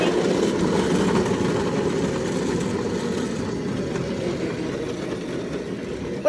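A go-kart engine running steadily at low revs, a dense continuous rumbling drone heard close, with no clear voices over it.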